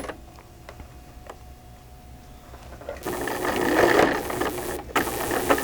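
A sewing machine stitching folded fabric, quiet at first, then whirring up loudly into a steady mechanical run of rapid stitches partway through, with a brief pause near the end.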